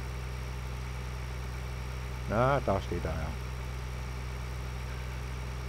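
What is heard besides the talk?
combine harvester engine idling in Farming Simulator video game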